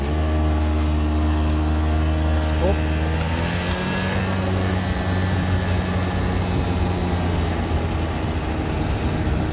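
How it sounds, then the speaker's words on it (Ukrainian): A Honda Dio AF27 two-stroke scooter engine drones steadily up close while riding, its buzzing pitch rising as it accelerates, with voices faintly underneath. "Двохтактний скутер, кажуть, дуже схожий."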